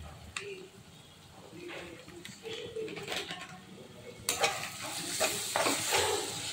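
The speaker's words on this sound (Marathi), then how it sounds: "आपला कांदा टोमॅटो सगळं हे भाजून आपल्याला एकजीव झालं पाहिजे" Onion and tomato masala with coriander powder, turmeric and red chilli powder roasts in a pan, a soft sizzle broken by scraping stirs that grow louder near the end, with a faint voice in the background.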